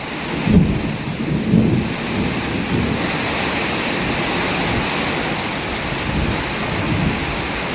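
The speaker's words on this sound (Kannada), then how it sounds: "ಅಷ್ಟು ರಭಸವಾಗಿ ಮಳೆ ಬರ್ತಾ ಇದೆ" Heavy rain pouring down on an areca nut plantation in a thick, constant roar, loud and close, with a couple of low thunder rumbles near the start.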